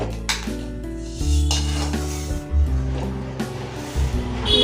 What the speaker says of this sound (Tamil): இதை நம்ம ஒரு தட்டில் ஊற்றி ஆற வச்சுருவோம்